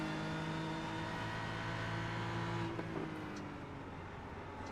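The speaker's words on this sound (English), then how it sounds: "Making the wonderful tones of that engine noise that it does make." A BMW GT3 race car engine drones steadily at high revs in a racing video game at Suzuka, a sustained tonal whine that eases slightly toward the end, with no talk over it.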